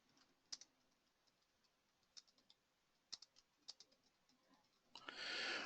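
Text being typed on a computer keyboard, short clusters of quiet, light key clicks at an uneven pace, followed at the end by a louder rustling burst.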